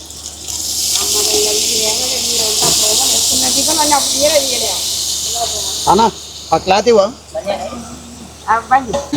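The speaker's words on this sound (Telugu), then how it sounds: "ఇప్పుడు ఉడికించుకున్న బోటీని ఈ పోపులో వేసేయాలి" Boiled goat tripe hits hot tempering oil with a loud, continuous hiss and crackle that gradually fades, while a person speaks over it.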